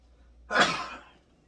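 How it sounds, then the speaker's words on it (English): A single sneeze bursts out close by, an abrupt breathy blast that fades within a second against a quiet background. "Oh, stop sneezing, dude."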